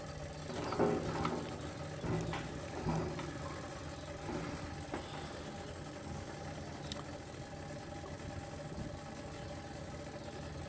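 A 1972 Range Rover engine idling while fed from a jerry can with a failing fuel pump, a steady rough mid-pitched rumble with faint knocks and mechanical clatter throughout.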